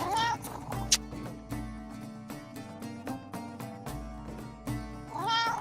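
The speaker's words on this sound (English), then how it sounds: "Tempted to clip that just to have a cat meow for gifts" Foxy the cat gives two drawn-out meows, at the start and near the end, over steady background music.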